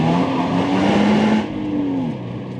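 A 2024 Subaru BRZ Limited sports car engine revs loudly and close, pitch climbing and holding, then dropping slightly as the revs ease off, with no talk.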